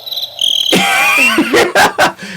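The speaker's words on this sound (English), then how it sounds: "Crickets." Cricket chirping sound effect played loudly after a brief lead-in, its steady trill joined by several sharp bursts toward the end.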